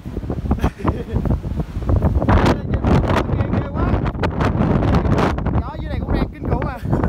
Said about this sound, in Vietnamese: Gió dưới này cũng đang kinh khủng à.